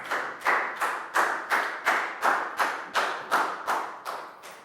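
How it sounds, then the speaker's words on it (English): A small classroom group claps in unison, about a dozen evenly spaced, sharp claps in a steady rhythm, fairly close and alone without talk. "Big round of applause for Net"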